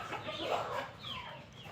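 Chickens in a home backyard poultry setup, fed on larvae, cluck and chatter briefly at a moderate distance, fairly soft and alone.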